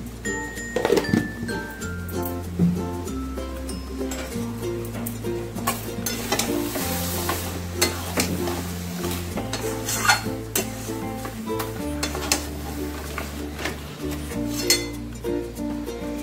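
Moong dal with a fish head and spices is stirred in a pan, with repeated scraping and clinking of the utensil against metal over a soft sizzle, close and continuous.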